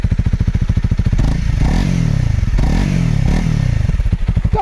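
A 2022 Honda CRF300L single-cylinder motorcycle engine runs close by, a loud, even thumping idle that rises into a couple of revs before settling back.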